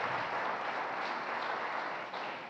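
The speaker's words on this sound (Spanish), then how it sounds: "Dele ese fuerte aplauso al Señor." A church congregation gives sustained, dense applause to the Lord, a steady roar of many hands clapping at a distance with no talk over it.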